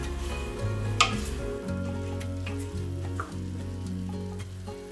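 Pork with fresh basil leaves sizzles in a pressure cooker pan as it is stirred, with a steady frying crackle over a low hum and a few sharp scraping clinks of the utensil, no talking.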